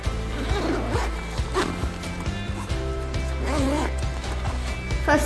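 The zipper on a BYJU'S learning kit bag is pulled open in short rasping runs against a busy, rumbling indoor background.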